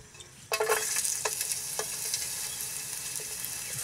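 Mud crab frying in olive oil, a loud sizzle bursting in suddenly and then holding steady, with scattered crackles and pops over a continuous hiss.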